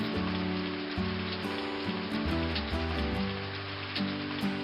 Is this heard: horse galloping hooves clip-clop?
no